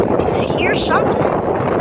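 Strong wind buffets a microphone outdoors at Springfield-Branson National Airport, a loud continuous low rumble and roar that never lets up through the moment.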